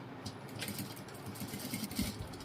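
A sewing machine runs steadily while stitching a blouse sleeve with a seam margin folded over, a quiet, even mechanical whir with light rhythmic ticking and no talk.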